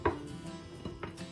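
Knife slicing a peeled kiwi into rounds about half a centimetre thick: a few soft, close cutting taps on a board, spaced irregularly and fairly quiet.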